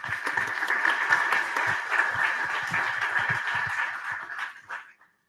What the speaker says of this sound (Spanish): Demos, por favor, un fuerte aplauso para recibirlo.